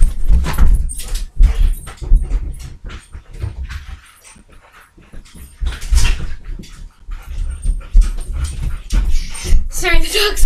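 A dog whimpering and panting close by indoors, its soft whines and breaths mixed with jangling keys and movement, while a person talks over much of it.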